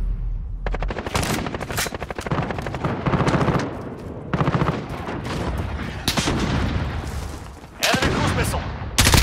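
Loud, rapid automatic gunfire from a test weapon in Call of Duty: Modern Warfare rattles out in dense bursts with brief pauses, close and dominant throughout.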